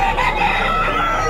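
A rooster crows at a busy pet market crowded with chickens, loud and close, with a steady blend of other fowl calls filling the background.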